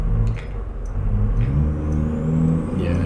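A Cummins NTC Big Cam diesel in a Mack R truck in American Truck Simulator drones steadily with low rumbling and a rising whine as the automated transmission upshifts, loud and continuous with no talk.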